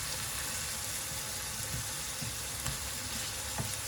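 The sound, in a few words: chicken liver and beef mince frying in olive oil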